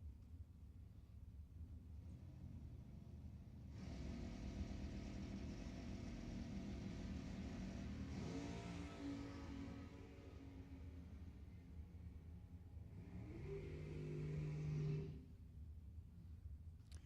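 A dragster at Lebanon Valley Dragway during ET finals racing: after a quiet start, a sustained engine roar rises and holds for about eleven seconds, swelling near the end before cutting back to low rumble, heard from a distance.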